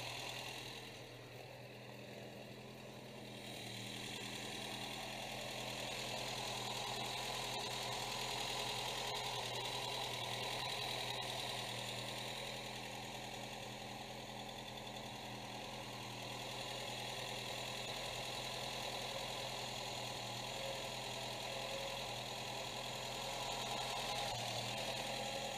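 Close, steady idle of a Renault 11 TXE engine, a continuous mid-pitched hum with a faintly uneven, slightly rough beat running throughout, no voices.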